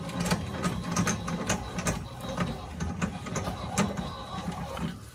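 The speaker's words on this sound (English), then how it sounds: "I'm gonna lower it down and scrape the top." Knife scraping the hide of a wild hog: rapid, repeated rasping strokes in a busy rhythm, close and fairly loud, with no voices.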